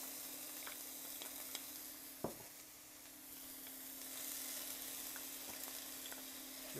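A chopped onion softens in olive oil at the bottom of a pot, making a faint, even sizzle over a low steady hum, with one brief clack of a utensil.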